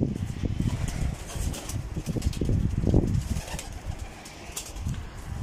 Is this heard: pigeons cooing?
yes